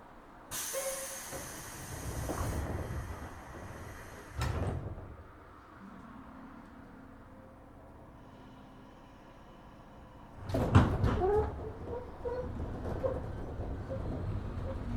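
Doors thud and slide shut on a 103 series 1500 train on the Chikuhi Line, with several sharp bursts of door noise separated by a quiet cabin hum.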